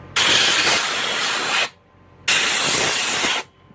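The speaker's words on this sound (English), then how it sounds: "I'll usually go around and spray the inside of my computer as well" Compressed air sprayed to blow dust out of a computer: two loud, sustained hissing bursts of about a second and a half each, separated by a short silence, close to the mic.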